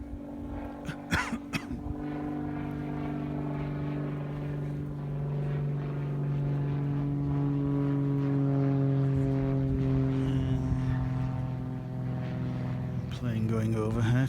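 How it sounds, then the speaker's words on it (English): An airplane passes overhead at a rose garden in late July, heard as a steady, droning hum with sustained tones that holds for the whole stretch and swells slightly toward the end. "Plane going overhead."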